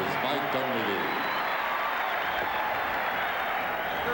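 Arena crowd at the Forum applauding as the Chicago Bulls are introduced before Game 3 of the 1991 NBA Finals against the Lakers: a steady, broad wash of clapping and crowd noise, with a voice speaking briefly at the start.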